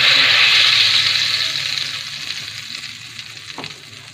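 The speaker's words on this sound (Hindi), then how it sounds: "अब हम इसमें थोड़ा सा ज़ीरे का तड़का लगा देंगे।" Cumin seeds sizzle in hot oil for a tadka, a close, bright hissing fry that is loudest at first and gradually fades, with a small clink near the end and no talking.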